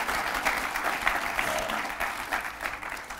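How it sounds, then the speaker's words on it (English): Audience applause at a Dry Lake Wind Power Project event, a steady wash of clapping from a crowd, fairly soft and even throughout with no talk over it. "So give him a round of applause"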